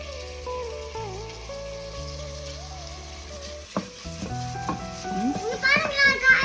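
Tomatoes fry in a pan and are stirred by kids making Thanjavur-style chicken curry. A soft sizzling hiss runs under loud background music and grows busier toward the end.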